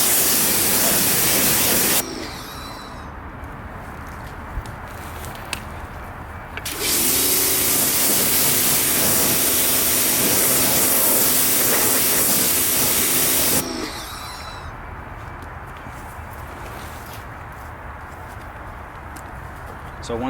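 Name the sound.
water spray rinsing car wheels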